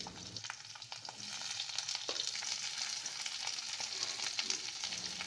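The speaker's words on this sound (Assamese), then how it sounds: "তেলখিনি গৰম হোৱাৰ পিছত এয়া কাটি লোৱা পিঁয়াজ আৰু কেপচিকামখিনি কেৰাহীত বহাই দিছোঁ আৰু অকণমান ৰঙচুৱা হোৱালৈকে ভাজি ল'ম" Chopped onion and capsicum sizzle in hot mustard oil in a wok: a steady, fairly quiet crackling hiss that keeps going with soft stirring scrapes and no voices.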